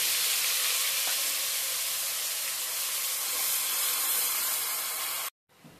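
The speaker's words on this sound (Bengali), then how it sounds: "দিয়ে দিচ্ছি আমি পেঁয়াজ বাটা।" Onion paste hitting hot oil in a pan for a Bengali katla fish curry gives a loud, broad sizzling hiss that holds steady for several seconds, then cuts off abruptly.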